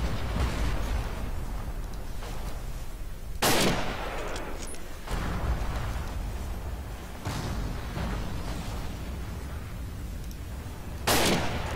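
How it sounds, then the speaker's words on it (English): Machine gun fire in Forgotten Hope 2 on the Falaise Pocket map: sharp, echoing bursts with a heavy crack near the four-second mark and again near the end, over a steady rumble of far battle. "I hope somebody takes out the machine gun,"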